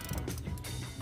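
Ratcheting clicks of a wrench turning a bolt on a Ford EcoBoost ignition coil, a quick close run of mechanical ticks with no talking.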